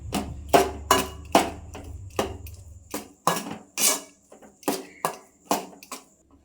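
Kesari batter being stirred in a metal pan, with a spoon striking and scraping the pan in repeated sharp clinks at an uneven rhythm, close and fairly loud, with a low hum underneath early on.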